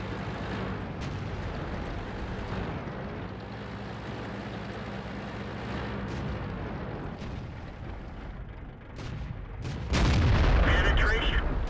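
Artillery fire in the tank game World of Tanks, heavy booms rumbling over steady engine and battle noise, with a louder, close blast near the end.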